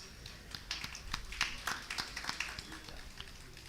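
Scattered clapping from an audience at a business conference, fairly faint and irregular, building briefly in the middle then thinning out as individual claps trail off.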